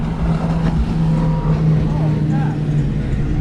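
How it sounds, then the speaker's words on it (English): A speedboat passes a sailboat out on the water, its motor a loud steady drone with a sustained low hum, close and continuous under wind noise and faint talk. "Oh, look at that speedboat."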